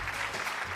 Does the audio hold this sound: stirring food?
no